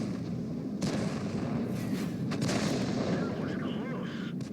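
Artillery shot from an M44 self-propelled gun in a tank video game, a booming blast near the start followed by further rumbling shots and explosions over a constant low battle din.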